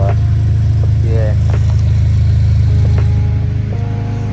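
A car fitted with an aftermarket exhaust and stock intake idles with a loud, steady low rumble throughout, while a voice talks faintly over the engine.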